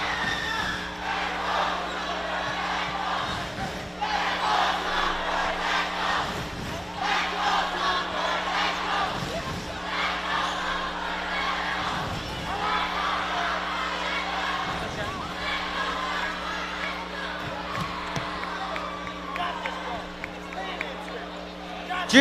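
Students shouting and cheering for their class at a school homecoming closing event, a steady crowd roar lasting throughout with voices rising and falling, over a constant low hum.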